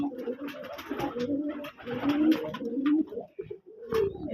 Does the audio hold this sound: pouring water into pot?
no